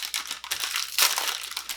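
A chocolate candy wrapper crinkles as it is torn open, a close, busy rustle of foil-like plastic lasting under two seconds with a sharper burst of crackling midway.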